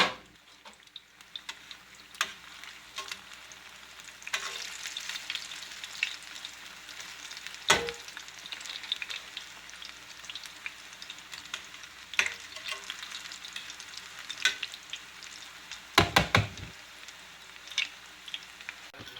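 Diced onion patties fry in a pan with a steady close sizzle and crackle, punctuated by scattered pops and a few scraping turns of a utensil, with no talking.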